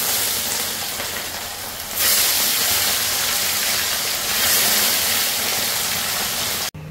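Fish coloured with turmeric frying in a pan gives a steady, loud, dense hiss that swells briefly partway through, heard close and without talk.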